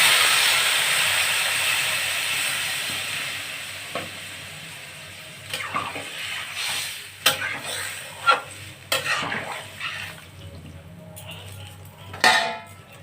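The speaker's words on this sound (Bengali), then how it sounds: "মশলাটা একটু তেলে সামান্য নেড়ে চেড়ে দিলাম, অতটা কষবো না, তো আমি জল দিয়ে দিচ্ছি" Spices frying in oil for a Bengali cauliflower and hilsa fish curry take a splash of water, with a steady sizzle followed by several sharp bursts of hissing and stirring clatter, close and fairly loud.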